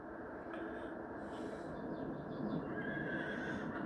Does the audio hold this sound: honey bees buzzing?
no